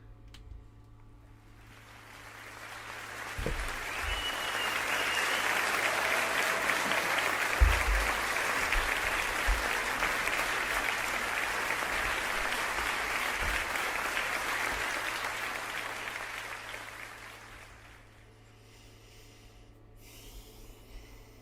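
Long swell of crowd applause that builds over a few seconds, holds as dense steady clapping for about fifteen seconds, then fades out, with a few low thumps and a faint hum underneath.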